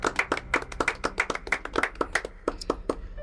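A church congregation claps in a lively rhythm of sharp, close claps, roughly four per second, with no talking.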